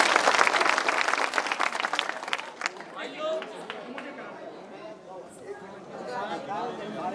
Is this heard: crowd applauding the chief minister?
yes